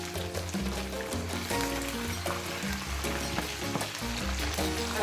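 Fish frying in a pan for fish rice, with a steady close sizzle and crackle that runs throughout, while soft scraping and handling sounds mark the piece being turned over.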